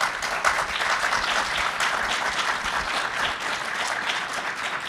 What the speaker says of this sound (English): Maybe we can give them a round of applause.